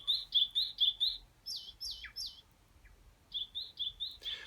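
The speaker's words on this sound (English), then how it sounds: "Let's listen to the birds." Synthetic bird chirps from a Technics SX-K700 synthesizer sound effect: quick bright tweets repeated in rhythmic bursts, a short pause near the middle, then another run of rapid chirps, clear and isolated.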